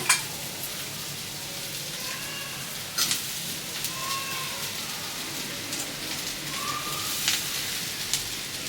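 Poha drops into a pan of tempering and fries with a soft, constant sizzle. Faint scrapes and stirring clicks sit above it, and no one talks.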